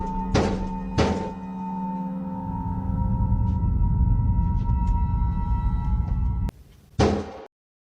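Late-night knocking on a door in a hallway: two heavy thumps near the start, then a long stretch of low steady hum, then two more sharp knocks near the end.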